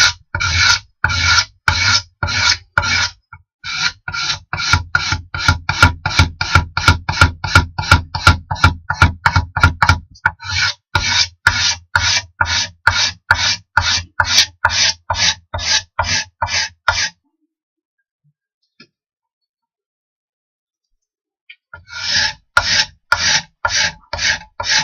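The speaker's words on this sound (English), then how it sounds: "at a certain angle you scrape off the paint" Sharp scraper drawn at an angle across a painted kitchen door, producing loud, close, rhythmic rasping strokes in quick repeated bursts, a long pause, then another run of scrapes, with no talking.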